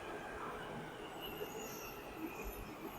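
A Hyderabad metro train runs along in a steady low rumble, with a thin squeal of wheels on the rails. It sounds faint and continuous, with no voices.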